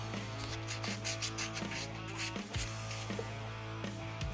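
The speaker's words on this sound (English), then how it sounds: "I also like to clean up these with just a little bit of sandpaper just to make sure they slide nice and smooth" Fine sandpaper rubs over the brake caliper slide pins of a Volkswagen Atlas, quiet back-and-forth scraping strokes in a steady rhythm over a low background hum.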